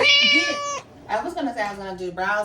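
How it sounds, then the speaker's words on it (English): A cat meows in an aggravated, drawn-out way at the start, followed by someone talking close up. "That's my cat being aggravated."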